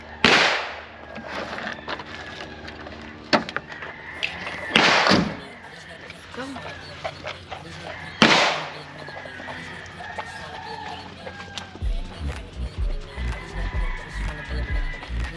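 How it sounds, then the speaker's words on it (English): Gunshots crack at an outdoor gun range, a few loud sharp reports spaced seconds apart, with roosters crowing and hens clucking nearby and people talking. "We are at a gun range."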